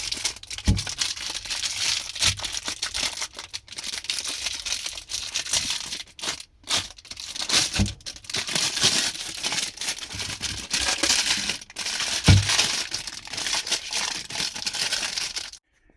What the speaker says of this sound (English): I'm going to put on 4 corners, double-sided tape, and then go ahead and stick it up top.